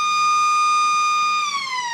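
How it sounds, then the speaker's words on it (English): A loud electronic siren at an Australian football ground sounds the three-quarter time break, holding one steady wailing tone before sliding downward near the end, with no talk over it. "the 3/4 time siren in the twos"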